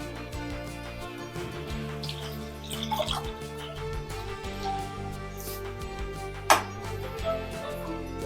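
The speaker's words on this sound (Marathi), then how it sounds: "आता 1 लिटर दूध ओतू त्याच्यामध्ये" One liter of milk pouring into grated carrots fried in ghee in a pan for carrot halwa, a steady close liquid gurgle and splash lasting several seconds, with a brief clink near the end.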